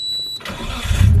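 A Nissan R33 Skyline with the handbrake up: a faint electronic whine gives way to the engine abruptly cranking and lurching, rising into a loud low rumble as it stalls, close and without speech.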